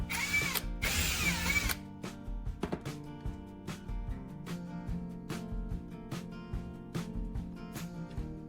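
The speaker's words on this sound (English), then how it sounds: "The drill slowly advances through the entire length of the handle." Power drill with an old drill bit boring slowly through the full length of a wooden handle, a close whirring grind after a brief louder burst, with repeated ticking clicks and knocks as the bit advances, no talking.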